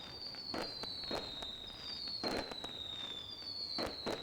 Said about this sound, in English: Lone Wolf Fireworks will help her celebrate down there in Slack Lumber